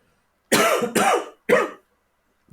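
Three harsh coughs come close together, the first two back to back and the third after a short pause, then quiet.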